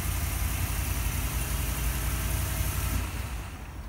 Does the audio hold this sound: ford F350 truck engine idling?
yes